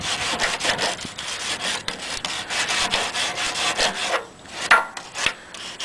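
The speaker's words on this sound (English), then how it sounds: "Just take a wire brush like this and just clean the surface." A wire brush scrubs the metal surface of an Ariens Sno Thro 6 hp snowblower during drive belt replacement, giving steady close rasping strokes for about four seconds, then a pause and a few shorter scrapes.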